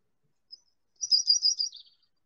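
A warbler gives a quick, high chirp, then a brief run of rapid, thin warbling notes against an otherwise silent background.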